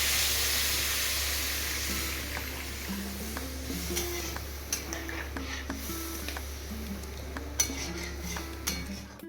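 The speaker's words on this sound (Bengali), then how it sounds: "আলুগুলোকে লো ফ্লেমে স্টিমে বসিয়ে দিলাম।" Potatoes with a little water steam in a covered pan over a low flame, a steady hiss that slowly fades, broken by light clinks of utensils against the pan.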